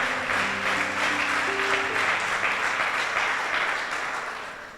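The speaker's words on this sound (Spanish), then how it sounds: "Dele ese aplauso al Señor fuerte." A crowd applauds steadily for several seconds, a dense wash of clapping that fades slightly at the end, with a sustained organ-like tone underneath.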